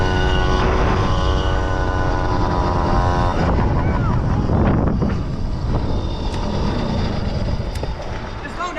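A small Yamaha PW50 dirt bike is ridden with a steady, buzzing little engine held close and loud throughout, overlaid by rushing wind, while people talk over it.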